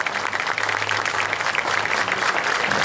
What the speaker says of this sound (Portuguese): salva palmas para o Hino Nacional de Espanha.